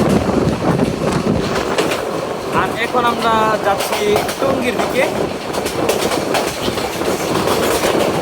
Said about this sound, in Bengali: আমাদের ট্রেনটি এখন নরসিংদী জেলার নরসিংদী রেলওয়ে স্টেশন অতিক্রম করে যাচ্ছে